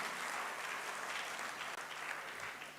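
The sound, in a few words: audience applause for NCL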